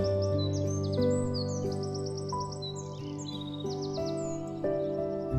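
Several birds chirp and trill in quick repeated phrases over a steady low drone beside a waterfall, with rustling trees, calls overlapping throughout.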